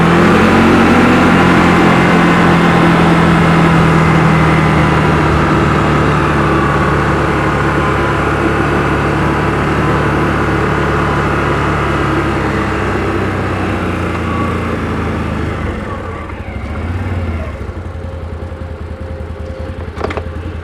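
A 2025 CFMoto CForce 1000 Overland ATV engine hums steadily at low revs in low gear, work mode, at about 18 mph for a long stretch, close and even, easing slightly near the end without any talking.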